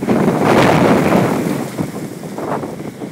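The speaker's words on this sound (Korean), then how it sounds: "아이고 바람 세다" Strong wind gusting across an outdoor hillside woodland plot, a loud steady roar buffeting the microphone and easing slightly toward the end, with no talking.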